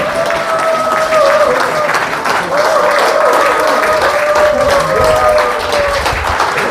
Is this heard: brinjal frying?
no